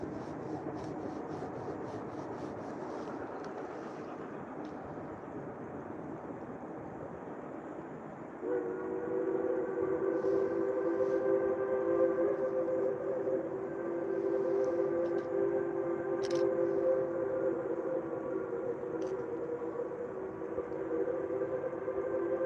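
A distant rumble of a train builds as it approaches a crossing, then a steady two-tone horn sounds and keeps blaring as it nears, with faint ticks over the top.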